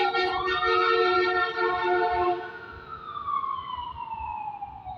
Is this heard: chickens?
no